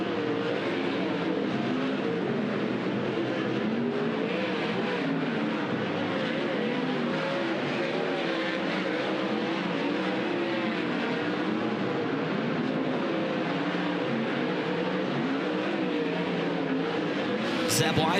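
Dirt track race cars, including sprint cars, roar continuously around an oval during a hot lap session at Douglas County Dirtrack, with steady loud engine drone and warbling revs throughout and a commentator talking over the noise.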